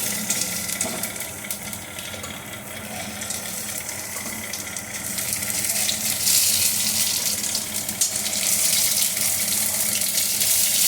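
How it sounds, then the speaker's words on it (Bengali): Water gushing from a tap into a cooking pot for boiling potatoes, a steady loud splashing rush throughout that grows slightly fuller toward the end. "অল্প জল দিয়েছি জল দিয়ে আলুগুলো সেদ্ধ করতে দেবো"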